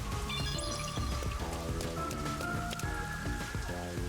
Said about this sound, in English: It rains 24/7.